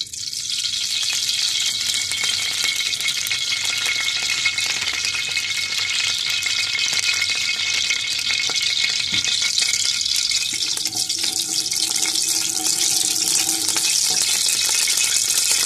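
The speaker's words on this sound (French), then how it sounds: "vous allez mettre premièrement votre marmite à chauffer et y rajouter de l'huile" Cooking oil heats and sizzles in a pot for okra sauce (sauce gombo), a loud, steady, close frying hiss that runs unbroken from start to finish with no voices.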